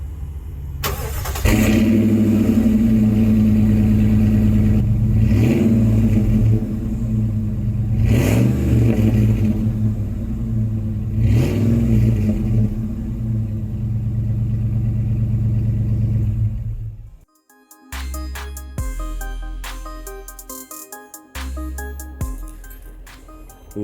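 A 2007 Dodge Dakota pickup on its original factory exhaust, the engine held at a loud, steady drone with three rising revs, then cut off and restarted to settle into a rough idle, close and without talk.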